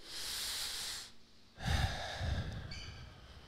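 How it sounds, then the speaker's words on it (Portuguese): A church congregation draws in a long, deep breath together, then lets it out in a heavy, rushing exhale. The breathing is close and clear, with no speech over it. "Respira aí bem forte."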